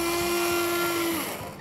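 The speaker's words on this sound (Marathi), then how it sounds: "या हँड ब्लेंडरने आपल्याला ह्या टोमॅटोची एकदम बारीक अशी प्युरी करून घ्यायची आहे" A hand blender whirs steadily as it purees cooked tomatoes in a pressure cooker pot, a continuous close motor whine for over a second that dips and fades toward the end, with no talking.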